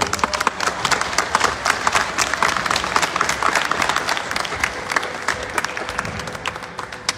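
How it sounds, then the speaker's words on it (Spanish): Audience applause at a community string-music concert in Tlaxcala, a dense, sustained burst of many hands clapping that fills the hall for several seconds. "Un aplauso, por favor."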